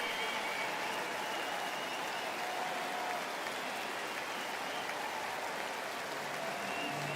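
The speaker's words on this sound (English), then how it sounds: "Cease is going to get a big ovation from this sellout crowd" A sellout crowd at a Yankees–Blue Jays baseball game gives a sustained ovation to the pitcher, heard as a dense, even roar of clapping and cheering that carries on at a moderate, distant level throughout.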